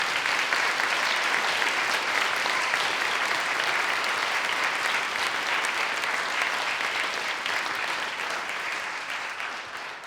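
An audience at a hospice event in St Mary's Church claps warmly, a dense, sustained round of applause that fills the space and tapers slightly toward the end.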